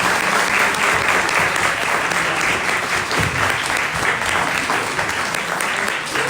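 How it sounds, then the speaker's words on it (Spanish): An audience at a university conference on the history of university autonomy breaks into loud, sustained applause, dense and even from start to finish without a break. "Les quiero solicitar a todos ustedes un fuerte aplauso"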